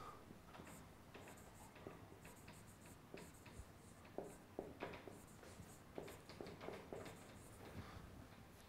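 Hand writing on paper or a board, a run of short scratchy pen strokes with small pauses between words, close and fairly quiet, with no talking over it.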